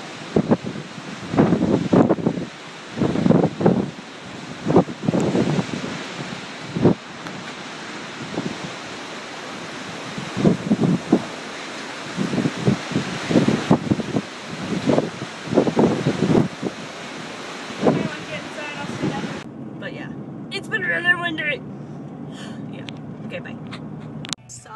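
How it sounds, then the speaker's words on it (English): Strong wind gusting outdoors, hitting the microphone in rough roaring bursts that come and go for most of the stretch before dropping away near the end, where quieter sounds are left. "So it's been super windy."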